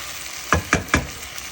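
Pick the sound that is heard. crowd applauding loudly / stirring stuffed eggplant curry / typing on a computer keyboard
stirring stuffed eggplant curry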